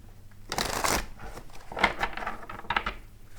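A deck of tarot cards is riffled and shuffled in quick, crisp bursts close by, with a few softer taps between.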